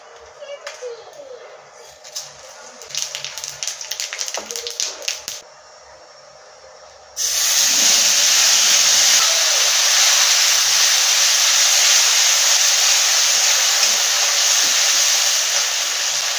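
A bay leaf, a dried red chilli and cumin seeds go into hot oil for a Bengali fish curry tempering. After a few seconds of light clatter, a loud, steady sizzling hiss bursts in and holds at full level to the end.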